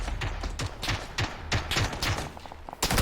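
Bursts of gunfire in a PUBG squad match, a rapid string of loud close shots with short gaps, a heavy final volley at the end, and brief speech slipping in between.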